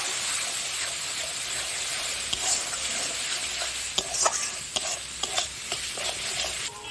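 Kashmiri chili powder and spice paste stir-fried in hot oil for a prawn and jackfruit dish, a steady close sizzle broken by sharp spatula scrapes and clinks against the pan, with no voices.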